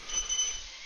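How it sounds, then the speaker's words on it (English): Short electronic alarm chime from Zelda: Breath of the Wild, a brief high tonal beep sequence heard alone, fairly loud and clean. "that was the alarm for the churn"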